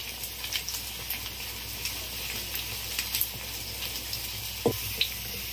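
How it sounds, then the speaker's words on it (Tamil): Coconut frying in hot oil in a pan, a steady soft sizzle with faint crackles and an occasional louder pop, no voices. "தேங்காயை நல்லா பொரியணும்."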